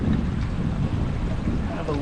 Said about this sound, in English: The engine feels a lot smoother than it did.